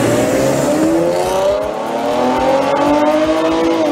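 A car engine revs hard as the vehicle accelerates, a loud, steady roar with rising pitch that briefly dips mid-way before climbing again, heard up close with no talk.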